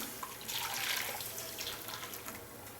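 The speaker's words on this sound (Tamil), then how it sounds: "வடிகட்டின தண்ணி ஊற்றிடலாம்." Strained palm jaggery water poured into a pot while making urad dal kali, a steady splashing liquid stream running continuously, close and fairly loud, with no talking.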